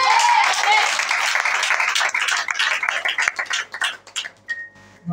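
Church congregation applauding and cheering at a Sunday service, dense clapping with voices mixed in that thins out toward the end, leaving scattered claps and a brief tone.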